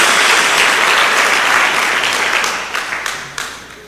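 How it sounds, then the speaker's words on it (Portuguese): A church congregation claps together in a dense, close burst of applause that holds steady, then thins and fades toward the end. "Dê uma salva de palmas a Jesus."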